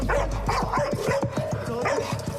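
A dog barks and snaps repeatedly at close range during a heated dispute between next-door neighbors, a rapid run of sharp barks and yips with no pause.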